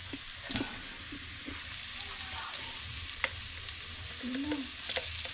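Garlic frying in a pan at a village fiesta cooking setting, a steady soft sizzle with occasional stirring clinks and scrapes, no talking.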